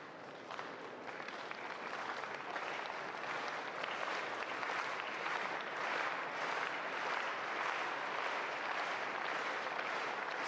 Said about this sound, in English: Circular clapping in the front row there.